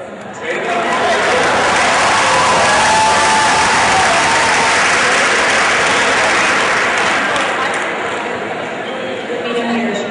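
An audience claps in a steady, dense burst of applause that fills the room for several seconds, then slowly thins out.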